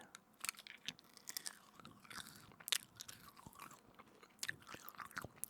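Gum being chewed close up and quietly, with soft wet smacks and clicks coming in an irregular rhythm, and no talking.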